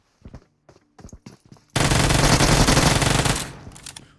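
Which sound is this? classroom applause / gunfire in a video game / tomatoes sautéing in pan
gunfire in a video game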